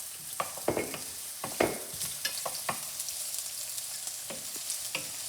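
Onions fry in olive oil in a pan with a soft, steady sizzle, punctuated by several sharp scraping strokes of a spoon as they are stirred, close and without talk.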